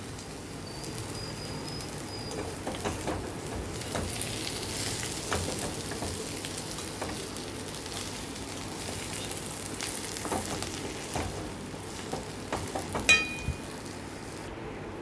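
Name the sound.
stuffed bitter gourd frying while being stirred in pan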